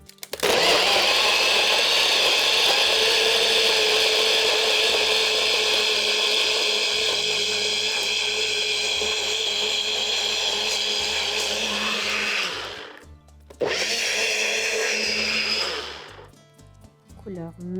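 A countertop blender whirs loudly and steadily, blending mango daiquiri for about twelve seconds, dropping briefly, then surging again before stopping.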